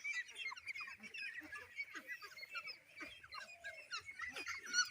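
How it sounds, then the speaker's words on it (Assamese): A flock of farm ducks quacks and honks in a constant overlapping chatter, soft and somewhat distant. "হাঁহ"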